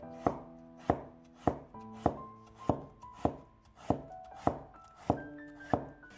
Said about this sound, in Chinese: 一根胡萝卜先斜刀切成段，再改刀切成菱形片